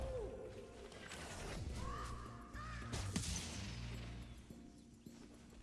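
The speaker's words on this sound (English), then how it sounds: "the machine room is overrun with birds" Crows cawing in the Spyro Year of the Dragon game's machine room, harsh calls over a steady droning game background with a brief crash around the middle.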